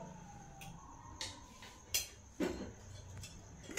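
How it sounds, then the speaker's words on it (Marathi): A few sharp metallic clanks and knocks, as a wok is set down on a gas stove, with a quiet steady hum in between. "तर आता भाजी करण्यासाठी गॅसवरती कढई ठेवते"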